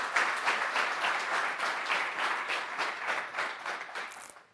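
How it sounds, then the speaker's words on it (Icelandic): Audience applause at a university graduation ceremony at Bifröst for an absent graduate, a dense burst of clapping from a seated crowd that holds steady for several seconds, then fades quickly at the end. "við skulum gefa henni gott klapp"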